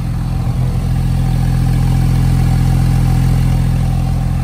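A 2018 Porsche 911 Carrera 4 GTS with sport exhaust rumbles loudly and steadily up close, a deep, constant engine drone with no voices.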